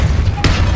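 The Depulso spell is cast in Hogwarts Legacy on PS5, landing as a single loud whooshing boom midway through over a continuous low rumbling game backdrop.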